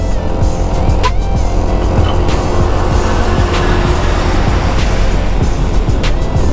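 A car's engine strains loud and steady while overtaking on a steep, rough uphill road in San Mateo, Rizal, with continuous road and tire noise throughout.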